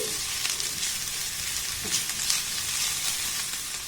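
Grated ginger and spices being stir-fried in a pan for aloo chop filling: a steady close hiss of frying with soft stirring scrapes, moderate in level, no speech.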